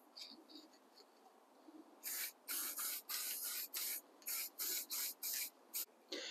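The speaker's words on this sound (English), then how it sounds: "You don't want it to spray too heavy, because if you spray too heavy, you might risk getting run-ons if the paint is too runny" Montana gold acrylic chrome spray paint hisses from a can in about nine short, even bursts with brief pauses between them, close and fairly loud after a quiet start.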